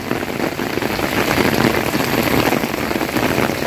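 Hail pelts down steadily during a sudden storm in Valencia, a dense, loud, unbroken patter of many impacts on surfaces with no voices heard.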